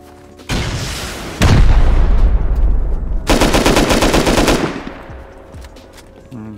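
Gunfire in the survival video game Rust: loud bursts of rapid automatic fire with heavy booming reports, pausing briefly between volleys before tapering off.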